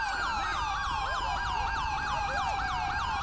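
A police vehicle siren from the GTA V LSPDFR video game wails in rapid repeating up-and-down sweeps, loud and continuous from start to end with no voices over it.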